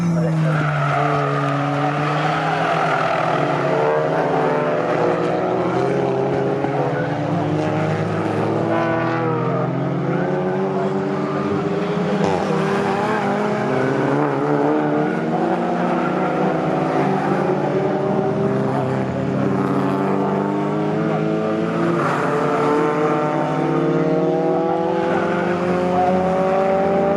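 Mazda MX-5 Mark III race cars circulating at Snetterton during a club endurance race, several engines droning loudly together with overlapping rising and falling pitches as they bunch up and run side by side.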